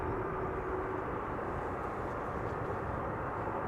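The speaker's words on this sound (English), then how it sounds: "Fox A is coming in next to land." Aircraft on approach to land at Schiphol Airport, arriving from London Heathrow, a steady broadband engine roar that holds level throughout without talk.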